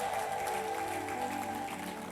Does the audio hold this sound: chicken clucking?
no